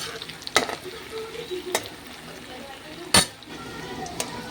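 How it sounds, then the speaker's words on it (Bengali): Fritters for a vegetable dal fry in oil in a pan with a faint steady sizzle, interrupted by a few sharp clinks and scrapes of a metal utensil against the pan. "ভাজাটা একটু ভালো করে লাল লাল করে ভাজা হবে"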